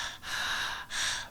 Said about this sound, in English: what you're hearing there is the friction of breath trying to beat its way past a closed throat